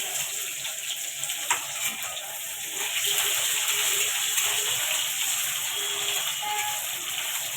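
Onions tossed into hot oil already holding cloves, pepper, cardamom, star anise and dried chilli sizzle in a steady crackling hiss, briefly jumping louder around the middle, with faint scraping and no talk.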